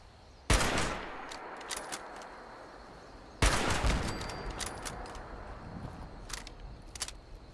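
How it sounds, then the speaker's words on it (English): Gunfire in the Fallout 76 video game as turrets are shot: two loud blasts about three seconds apart, each trailing into rattling bursts and scattered shots, with steady background noise between them. "at least I can shoot some turrets"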